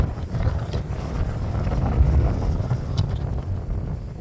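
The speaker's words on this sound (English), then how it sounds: "When they said high winds today, they were not kidding." Strong wind blowing at about 30 miles an hour, rough low buffeting against the microphone with gusty rumble, loud and continuous.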